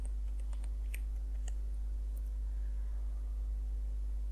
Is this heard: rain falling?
no